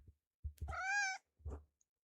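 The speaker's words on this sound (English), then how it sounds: "He gave you a meow." A cat gives one clear, drawn-out meow close to the microphone, framed by a few soft bumps and thumps, with no speech.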